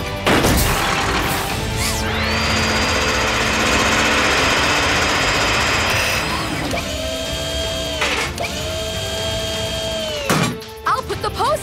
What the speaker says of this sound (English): Zuma, use the mini drill to make some holes.